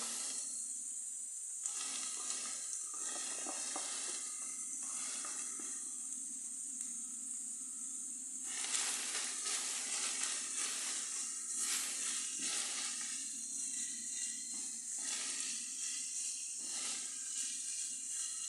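Onions fry with browned meat in a pan, giving a continuous close hiss and sizzle that swells louder midway and stays steady, with no talking.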